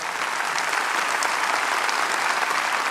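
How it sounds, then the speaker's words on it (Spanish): Sustained, even applause from a church congregation, a dense continuous clapping crowd filling the room for the whole stretch without a break. "Quiero que lo reciban con un buen aplauso"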